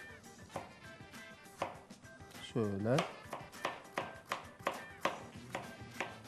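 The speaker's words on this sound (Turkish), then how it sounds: "Görüyorsunuz sevgili devam ediyor. Şöyle kabağımızı doğramaya." Repeated knife chops through squash on a cutting board, steady and close, with a person talking briefly over the rhythmic strikes.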